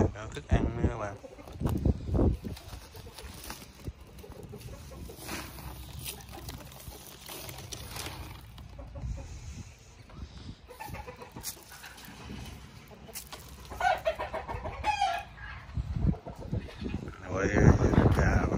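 Chickens cluck and call on a farm in Australia, with scattered close clucks and squawks over a busy background while people talk throughout.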